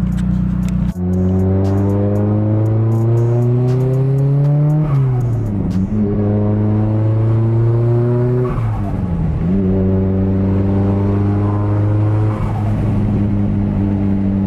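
A loud four-cylinder engine in a Nissan S15 revs up and shifts repeatedly, pitch climbing then dropping in several pulls, close and continuous, with no voices.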